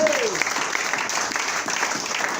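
A church congregation applauding during a sermon, a dense, sustained round of clapping from many hands filling the room throughout.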